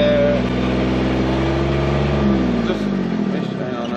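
A farm tractor's engine runs steadily at a close, loud level, with a deep, even hum that holds throughout and eases slightly near the end.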